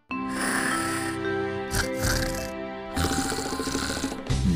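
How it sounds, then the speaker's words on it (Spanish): Loud, close snoring with rough, rattling inhalations and snorting breaths, repeating in a slow rhythm with no talking. "las vibraciones que provocan los ronquidos"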